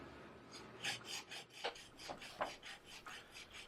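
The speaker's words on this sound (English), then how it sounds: "I first tackle the two pronounced horns, rubbing them on the stone before working across the entire bevel arc." A woodworking gouge rubbed back and forth on a 600 grit diamond sharpening stone, a quiet rasping scrape repeated in even strokes, close up and faint, with no voices.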